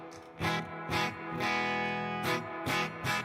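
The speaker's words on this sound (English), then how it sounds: "this is just reverb" Electric surf guitar played in a living room through reverb only, with the echo pedal off and reverb set to about five: ringing chord strikes with long, shimmering decaying tails between fresh attacks, heard alone.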